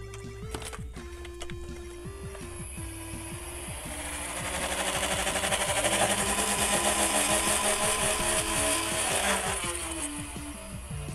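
A small electric flywheel motor in a Nerf Ultra One toy blaster on low batteries whirs, climbing in pitch and loudness as it spins up slowly, then holds a buzzing mechanical whine, with clicking near the start.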